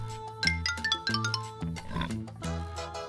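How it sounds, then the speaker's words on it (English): A pig oinks in a short series of grunting calls over about three seconds, loud and close against a bright musical background. "Pig."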